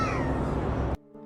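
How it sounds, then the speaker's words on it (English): Cat-like growling in a forest at night comes as a loud, sustained, strained yowl with a rough texture, cut off abruptly and followed by a faint tonal hum. "they hear a growling noise that sounds like a cat"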